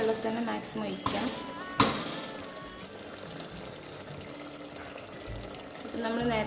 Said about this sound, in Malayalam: തിളപ്പിച്ച വെള്ളം തന്നെ മാക്സിമം ഒഴിക്കാം.